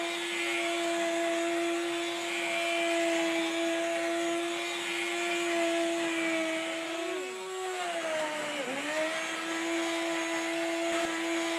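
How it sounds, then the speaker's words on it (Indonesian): Electric mixer whipping sponge cake batter until thick, a loud continuous whirring motor close by whose pitch dips briefly twice as the beaters bog down in the batter. "mixernya bisa kita matikan sebentar"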